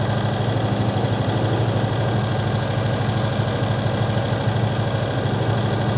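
A turbocharged V8 police car with custom exhaust, EFI and intercooler idles at about 1,500 RPM, a loud, close, steady low rumble with an even pulsing throb and no voices.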